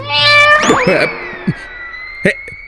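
A cat gives a long, loud meow up close, followed by a few soft knocks and shuffles.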